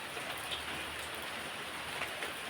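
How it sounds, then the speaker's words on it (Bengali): Morning rain falls steadily, a soft even hiss of drops on surfaces with occasional louder patters, continuous and fairly quiet with no one speaking. "বলতে না বলতে বৃষ্টি শুরু হয়ে গেল।"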